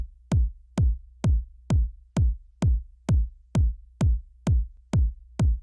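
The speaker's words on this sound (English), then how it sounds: "So the kick looks and sounds like this." A tech house kick drum hits a steady four-on-the-floor pattern, twelve punchy, evenly spaced thumps with quick decays, loud and isolated against silence.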